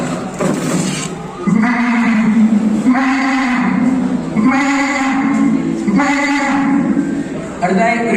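At a school arts festival, a mimicry artist voices a goat's bleat, a series of wavering, nasal cries repeated several times, loud and close with no other sound competing.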